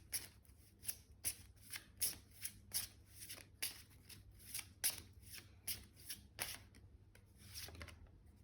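Oracle cards are shuffled by hand in a quiet room, giving a series of about a dozen crisp, papery riffling bursts spaced roughly half a second apart, close and soft.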